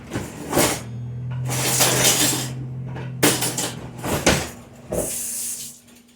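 A big spoon scrapes, clinks and scoops through homemade chocolate chip cherry ice cream, several bursts of metallic rattling and scraping separated by pauses, over a low steady hum.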